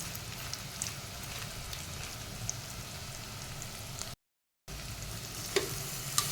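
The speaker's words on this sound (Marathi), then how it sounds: "आता आपण एकदा हे परतवून घेऊ छान" Spices including cumin powder, kitchen king masala and biryani masala sizzle and fry in a pan while being stirred, a soft steady crackle with faint scraping ticks and a brief break near the end.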